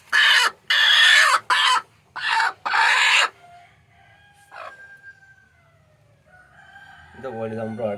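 Several loud, close bursts of native country hen clucking and squawking at a coop, then quieter chirps and a low hum with a rising tone near the end.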